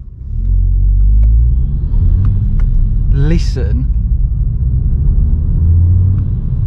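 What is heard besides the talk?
Volkswagen Scirocco engine accelerating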